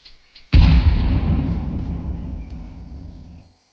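A grenade blast in Counter-Strike 2 on the Ancient map, a single loud, close boom after a couple of faint clicks, with a rumbling tail that fades over about three seconds.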